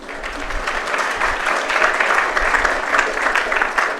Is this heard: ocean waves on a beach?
no